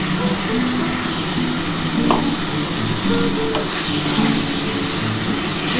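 Masala paste of onion, ginger, garlic and tomato frying in a pan, a loud, dense, continuous sizzle heard up close with faint tonal clinks and scrapes mixed in.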